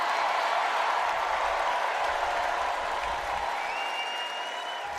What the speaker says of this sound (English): Huge applause break moment in the United Center. It was pretty amazing. Everyone cheered.